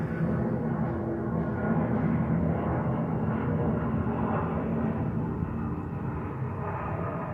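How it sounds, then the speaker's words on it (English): A fixed-wing airplane passing overhead, a continuous broad engine rumble and roar heard at a distance outdoors, holding fairly steady throughout with no voices over it. "with this plane being here, if you can hear that passing by"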